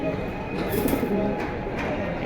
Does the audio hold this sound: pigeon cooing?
yes